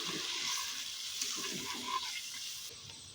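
Water pours into a pan of sizzling masala for a mustard-poppy seed bhindi gravy, a continuous hissing splash and frying crackle lasting a few seconds, close and steady.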